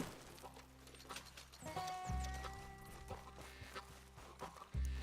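A horse's hooves clip-clop and thud in Red Dead Redemption 2, close and moderately loud, with a whinny and game music layered over the rhythmic hoofbeats.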